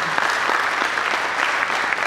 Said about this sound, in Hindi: ज़ोरदार तालियों से इस्तकबाल कीजिए मनोज तिवारी